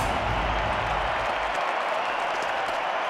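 Crowd applause in the London 2012 video game, a steady, dense wash of clapping that fills the stretch without letup, with no voices over it.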